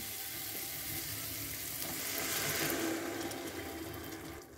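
Dal tipped into hot spiced oil that has begun to separate from the masala during a paneer tadka preparation, giving a steady broadband sizzle with a brief swell near the middle, alone without talk.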